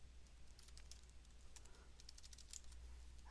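Computer keyboard typing, a quick run of light clicks of varying spacing, fairly faint over a steady low hum with no voices.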